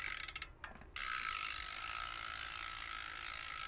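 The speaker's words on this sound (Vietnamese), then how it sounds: "Cái cối líp của nó kêu rất là trớn và kêu rất là to luôn." A Zipp 404 bicycle rear hub freewheel clicks: a few separate ticks, then a loud, close, steady buzzing ratchet that runs on without a break.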